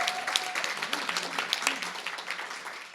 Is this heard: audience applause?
yes